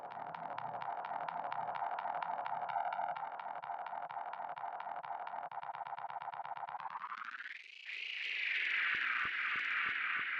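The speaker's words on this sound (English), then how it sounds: "I also have a bunch of delays and a stutter effect." SousaFX delay and stutter effects on a buzzy synthetic tone: rapid repeating stutters, then a pitch sweep upward into a brighter smeared texture with echoing clicks near the end.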